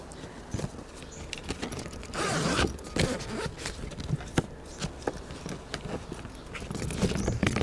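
A large two-way zipper on a DeWalt DWST60107-1 rolling bag is drawn along its track in quick rasping strokes, close and fairly quiet, with handling clicks and rustles between pulls.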